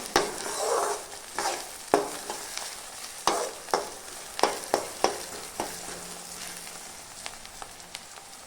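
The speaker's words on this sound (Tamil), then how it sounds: "இப்போ இந்த வெங்காயம், பூண்டு, கறிவேப்பிலையெல்லாம் பாதி வதங்கிருச்சு, பாதியெல்லாம் வெந்துருச்சு பாருங்கள்." Onion, garlic and curry leaves sauté in oil in a pan for brinjal poriyal, a soft continuous sizzle broken by repeated sharp scraping stirs. The stirs come at an irregular rhythm, close up and with no voices.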